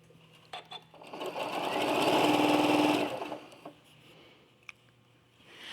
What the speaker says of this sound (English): And then I'll sort of sew that section, and then I'll go to the next.